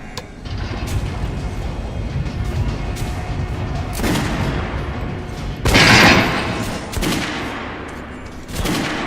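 Gunfire in the game Metro Last Light Redux: a run of loud, rapid shots with sharp bursts that stand out, echoing over a steady rumbling background.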